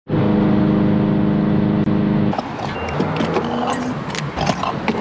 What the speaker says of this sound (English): We got the other Aston and the Porsche heading out.